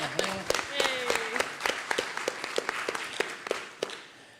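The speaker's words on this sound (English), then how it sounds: "Yes, please, applause." A conference audience gives scattered, sparse applause for a panel introduction, with distinct individual claps rather than a dense roar. A faint voice and tone sit underneath.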